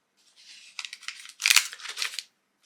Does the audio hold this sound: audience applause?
no